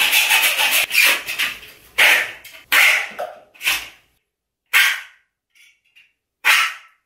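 Thin sheet metal from a venetian blind, under a millimetre thick, being cut in short, loud, close bursts of harsh rasping, separated by silent pauses.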